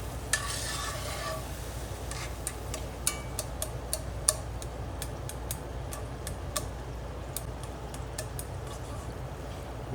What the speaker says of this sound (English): Now I'm going to add a little bit of white wine to this. Give this a stir.